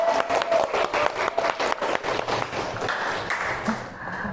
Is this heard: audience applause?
yes